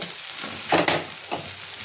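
Spiced masala with red chilli powder sizzles and fries in a pan for Bengali-style chicken stomach chachari, a steady hiss punctuated by a couple of brief louder stirring bursts, close by.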